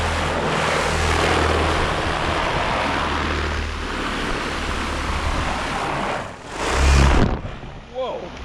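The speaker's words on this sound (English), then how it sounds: "The motor's jumping around, and I bet you it's because of these dodgy connectors I got going here." An electric motor spins a propeller on a swing with a steady, loud whirring buzz. The sound shifts in level as the swing moves and surges briefly near the end, which suggests a faulty connection. A voice is faintly heard.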